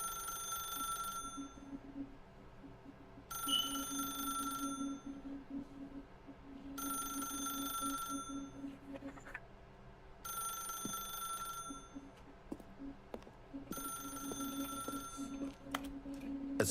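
Telephone in The Stanley Parable ringing in five long regular bursts separated by pauses, steady and clear against a low background hum, with no talking.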